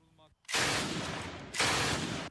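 Gunfire from an MPT-76 infantry rifle: two loud, broad blasts about a second apart, each ringing on for about a second, near and harsh, preceded by a brief low murmur.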